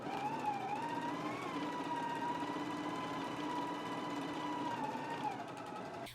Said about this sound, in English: let's go ahead and stitch our front bodice together now